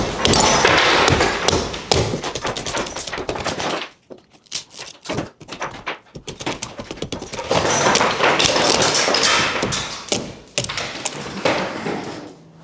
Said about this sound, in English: I'm using a small hammer